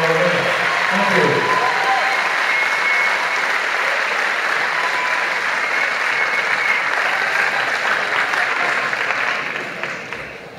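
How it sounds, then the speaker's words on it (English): An audience at a NABBA World 2012 bodybuilding masters over-40 final applauds its guests with loud, dense, sustained clapping that keeps going before easing off at the end. "Ladies and gentlemen, applause please for our guests."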